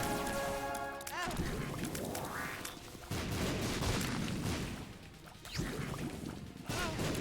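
Bombs exploding in the video game The Binding of Isaac: several loud, abrupt crashing blasts spaced a second or two apart, over a busy game soundscape with tonal effects and no talk.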